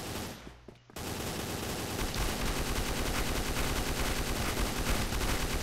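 Rapid burst-mode gunfire in a video game, a short quiet pause and then dense, loud, continuous volleys of shots running to the end with no talk.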